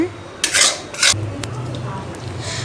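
Rice being stirred in a cooking pot for coriander rice, with two loud metallic scraping strokes of a spoon against the pot followed by softer rubbing and a few light clinks.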